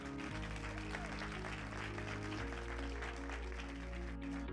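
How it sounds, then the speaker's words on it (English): Audience applause at the final show of the Miss Grand USA 2019 beauty pageant, a faint, dense patter of clapping spread through a hall beneath loud, sustained music throughout. "Let's have a big round of applause for Joel Sandoval."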